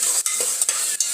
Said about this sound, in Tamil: இஞ்சி பூண்டு பேஸ்ட் கொஞ்சமாக போட்டுக்கலாம். போட்டுட்டு நல்லா வதக்கிட்டு